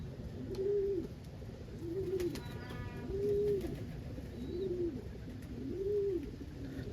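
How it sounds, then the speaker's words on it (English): An opal crested saddle homer pigeon coos in a loft, five soft, evenly spaced rolling coos close by, with faint outdoor background noise and no talking. "It's one of my crested saddle homers."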